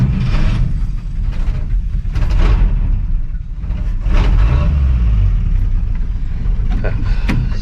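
A 1958 Chevy Apache pickup engine runs steadily while the truck drives, a loud, rough low rumble with rising and falling revs and some rattling mechanical clatter throughout.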